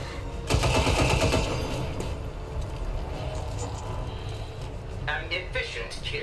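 Automatic gunfire in XCOM 2 bursts out in a loud rapid volley, then fades into lighter scattered shots and clatter while a voice talks over the action.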